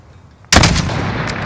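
One sharp rifle shot from the shooter video game Call of Duty: Modern Warfare, fired in wind, bursting loud out of near silence and followed by a short rolling echo tail.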